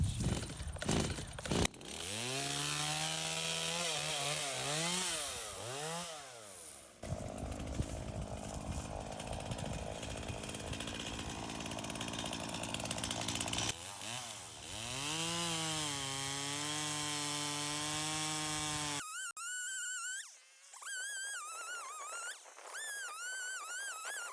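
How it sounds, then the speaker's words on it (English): A chainsaw cuts up old fallen trees for firewood outdoors, its engine loud and close, revving and dipping in pitch through several long cuts separated by brief pauses, then idling higher near the end. "I try to come out here every year to cut up a little bit of firewood."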